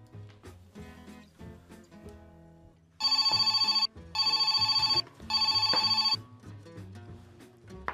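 A telephone rings in three loud, steady bursts of about a second each, separated by short gaps, over quiet background sounds during a home call.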